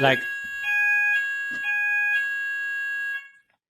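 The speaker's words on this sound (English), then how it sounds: "they're going to do a fire alarm test for the next minute" A fire alarm test in student accommodation: a loud, steady electronic alarm tone that pulses in repeated bursts of roughly half a second, with a short burst of speech at the start.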